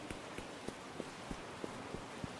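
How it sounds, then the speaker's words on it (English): Faint, steady rain hisses in the space game Stars End, with soft, evenly spaced taps about three times a second, like footsteps, over the top and no voices. "get out of that rain, that's better"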